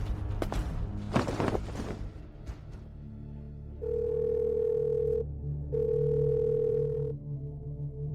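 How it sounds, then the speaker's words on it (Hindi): A telephone call fails to connect, leaving two long steady dial-tone stretches with a short gap between them, preceded by a few thumps and rustling handling noise, all fairly quiet. "फोन भी नहीं लग रहा"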